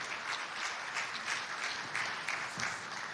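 An audience applauds to welcome a speaker at a seminar on safety and legal aspects, steady moderate clapping from a crowd, somewhat distant and without talk.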